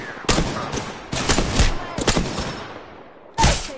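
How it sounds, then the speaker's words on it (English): Video game gunfire, rapid bursts of automatic shots in several loud volleys separated by short pauses, close and sharp. "Shots fired."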